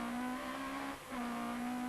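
A yellow Vauxhall Nova rallycross car racing at the 1997 British Rallycross Championship at Pembrey Circuit, engine holding a steady sustained drone, dipping briefly at mid-point before resuming, heard from a distance.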